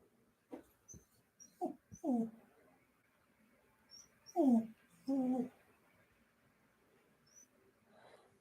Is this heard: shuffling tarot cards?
no